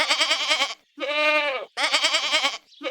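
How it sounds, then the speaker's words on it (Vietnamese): A goat bleats three times in close succession, loud and near, each call a quavering nasal cry separated by brief silences. "Con dê."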